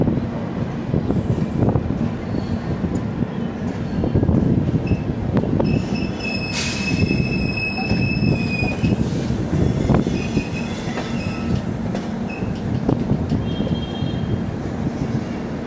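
The Jallianwala Bagh Express, running from Amritsar to Sealdah, rumbles steadily along the track with rhythmic wheel clatter and high metallic squeals from the wheels, heard continuously from on board without speech.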